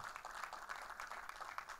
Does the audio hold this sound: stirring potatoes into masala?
no